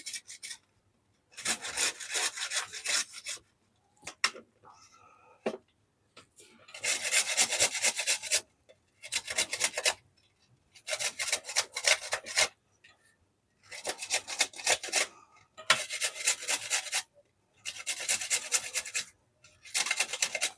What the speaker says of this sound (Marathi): मी आता हे सगळे आवळे असे बारीक छान किसून घेते